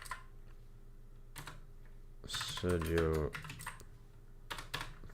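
Typing on a computer keyboard while building a list in a football career mode game, bursts of close key clicks alone at the start and end, with a short spoken word in the middle.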